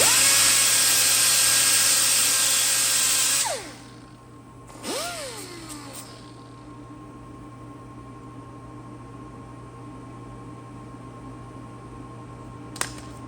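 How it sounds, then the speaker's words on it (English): A grinder working on the end of a welder wire gives a loud high whine for about three seconds, then stops. A brief spin-up follows, and faint hum and a small click trail off after it. "I guess we have to grind the wire so it doesn't have an edge on it."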